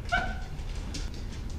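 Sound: dog whimpering

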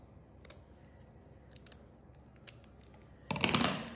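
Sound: scissors cutting paper to make a doily

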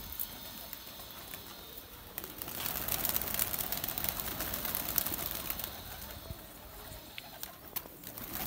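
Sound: Kasoori pigeons cooing

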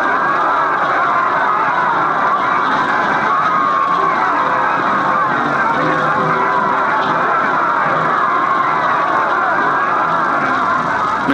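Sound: basketball crowd cheering, rising to their feet

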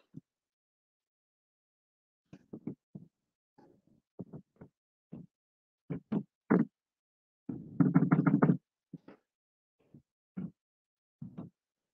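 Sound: knocking and banging on a door

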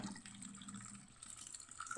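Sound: grated potato washed under running tap

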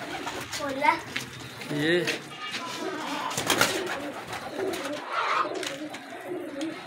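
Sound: pigeon cooing

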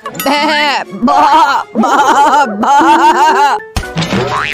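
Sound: cartoon character imitating a goat bleating

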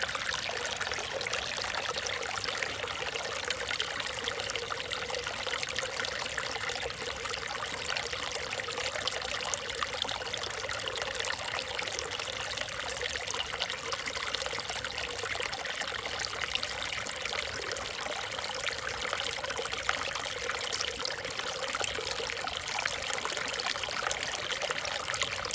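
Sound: mountain creek water flowing

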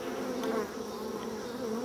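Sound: honey bees buzzing around queen cells and larvae

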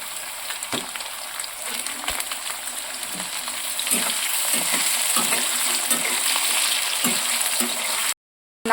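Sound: grated coconut frying in oil with potatoes

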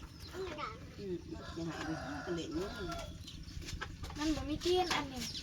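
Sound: chicken clucking

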